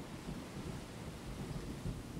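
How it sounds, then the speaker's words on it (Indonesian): A fierce storm over the sea with waves, a dense continuous roar of rain and low rumbling thunder, steady and fairly loud with no voices. "Tidak ada apapun selain ombak dan badai yang ganas, Tuan."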